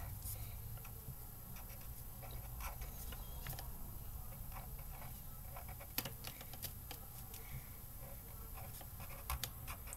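Pen writing letters by hand on paper, faint close scratching and small ticking strokes in an irregular rhythm over quiet room noise.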